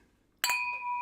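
A single bright clink of glasses touching, with a clear ringing tone that lingers close by.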